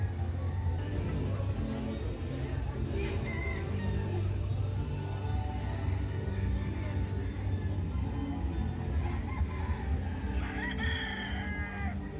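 Roosters and chickens at a hobby expo, with White Kelso brood stags among the birds, heard as a steady crowded background of clucking and a few crowing calls, moderately distant under a constant hall din.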